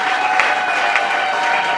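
Audience applause at a church book launch and art exhibition opening, a steady dense wash of clapping throughout, fairly loud and close, with no clear voice over it.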